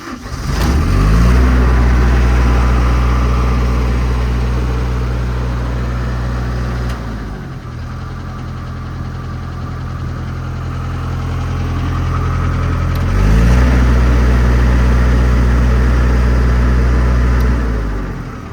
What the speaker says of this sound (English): Runs as it should. Obviously it's a diesel welder.